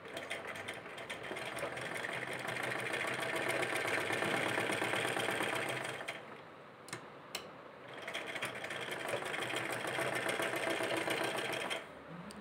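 A sewing machine stitching cloth face mask pieces runs steadily with a fast mechanical whir, pausing briefly in the middle with a couple of clicks before running again; fairly quiet and close.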